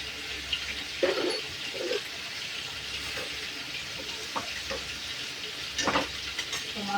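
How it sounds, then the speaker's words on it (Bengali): Ground turmeric, chili, salt, coriander and cumin sautéing in a pan with small potatoes, a soft continuous sizzle broken by a few louder stirring scrapes and clatters, no talking. "মশলাটা ভালো করে কষে নিই।"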